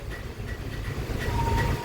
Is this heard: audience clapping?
no